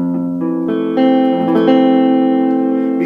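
A major 7 jazz chord is strummed on guitar with an effects-laden tone and rings out sustained and up close, with a few notes re-struck as it decays.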